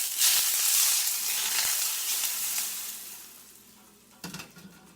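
Hot oil poured from the stove onto onion over roasted eggplant for baigan choka, a loud burst of sizzling that slowly fades, followed by a few clanks of stirring.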